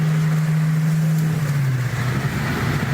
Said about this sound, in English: It sounds like it's got exhaust pods. It might have headers.